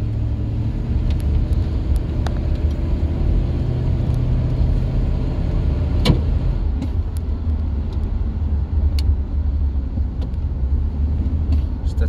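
Car on a neighborhood test drive after a new alternator was installed, giving a steady low road rumble and engine drone throughout, close and continuous with no speech.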